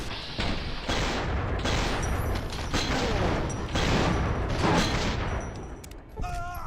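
A sustained burst of gunfire in the post-apocalyptic role-playing shooter Fallout: New Vegas, dense rapid shots and booms layered loudly for several seconds, followed by a brief voice near the end.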